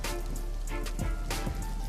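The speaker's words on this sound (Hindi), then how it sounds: "दूसरी तरफ बिहार और बंगाल में झमाझम बारिश हो रही है।" Heavy rain falls steadily during a downpour in Bihar and Bengal, a dense, continuous hiss of drops hitting surfaces with a few brief louder surges, and no voices.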